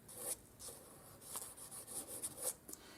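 600 grit sandpaper rubs along the curves of a Glock 42 .380 trigger, giving quiet, close raspy strokes in an uneven back-and-forth rhythm with brief pauses.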